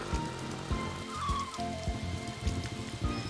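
Rain in the farming video game Story of Seasons: Pioneers of Olive Town, a steady patter of drops with soft repeated taps under a faint background music layer, no voices.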